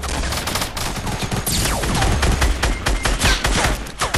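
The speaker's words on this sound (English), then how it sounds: "Okay, I'm just gonna fire down on there." Rapid bursts of gunfire from a Fortnite Battle Royale match in Blitz mode, dense overlapping shots rattling continuously and loudly throughout with no pauses.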